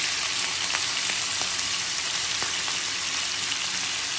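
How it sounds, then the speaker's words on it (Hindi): Beef frying in fat in a pot, a steady close crackling sizzle with scattered sharp pops running throughout, no voices. "ये हम अब इसमें हाथ के साथ डाल देंगे इसके अंदर बीफ"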